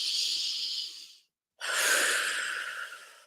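A person breathes deeply during a tapping exercise: a long, loud breath, a brief silence, then a second strong, airy breath, close to the microphone with no talk.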